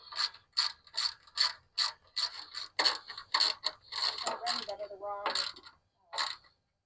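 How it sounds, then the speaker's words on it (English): A ratcheting 8mm socket and a 3mm Allen wrench tighten M5 bolts on the battery mount of an electric kit for a Worksman dual trike. Quick, evenly spaced pawl clicks come in repeated short runs, close and clear, with a few pauses. "So I'm using a 3mm Allen wrench and an 8mm socket."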